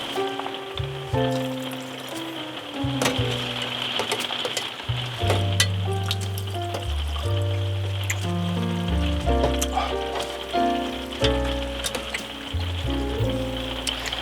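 Risotto simmers in broth in a pot at a camping site, giving a soft continuous bubbling and light sizzling, partly masked by steady background music.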